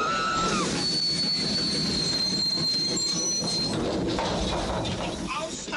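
A passenger train runs on rails in a 1979 film scene, with a continuous rumbling roar, a long high wheel squeal and rhythmic clatter filling the compartment while people talk faintly underneath.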